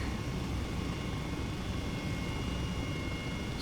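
Steady, droning rotor and turbine hum from an Airbus H135 helicopter in Flight Simulator 2020, flying around Chicago, continuous and even throughout with no talking.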